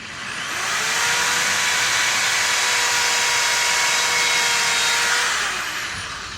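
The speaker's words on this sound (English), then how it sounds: "we're going to drill" A power drill whines steadily for several seconds, spinning up, holding a loud even pitch while boring holes in reused scrap wood, then winding down.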